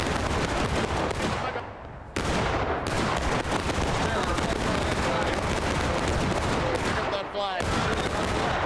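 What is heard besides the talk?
musket volleys of a charging company in video game War of Rights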